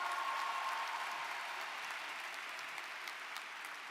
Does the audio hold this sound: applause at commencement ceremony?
yes